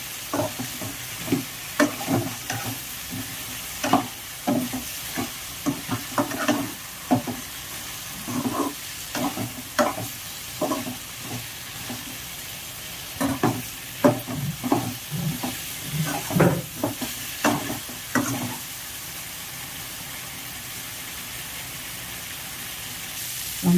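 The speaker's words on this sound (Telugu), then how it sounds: "వంకాయలన్నీ అట్లాగా 2 సెకండ్లు బాగా కలుపుకొని" Young eggplant pieces for a tangy curry are stirred in a hot frying pan, with rhythmic spatula scrapes against a steady oil sizzle; the stirring stops near the end and the sizzle carries on alone.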